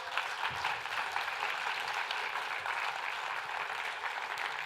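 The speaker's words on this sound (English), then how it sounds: "Can you give them a clap?" A conference audience claps for volunteers in an even, moderately quiet wash of applause that holds steady throughout.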